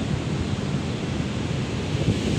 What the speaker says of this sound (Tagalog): nakakatakot na ho ang alon